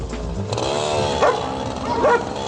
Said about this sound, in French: Des maîtres et leurs chiens profitent de la fraîcheur pour prendre l'air.